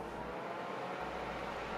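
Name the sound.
SADES Osiris PC case fans running at maximum speed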